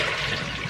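Tap water running hard and steady while strawberries and blueberries are washed, a loud close gushing stream with no talk.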